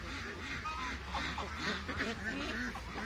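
A male duck calls amid a large flock of geese and ducks, its harsh quacks rising over steady background honking and chatter at close range throughout.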